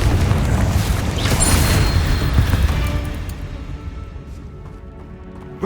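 The Confringo spell explodes in Hogwarts Legacy on PS5. One loud, deep boom hits at once, then rumbles and slowly fades over several seconds.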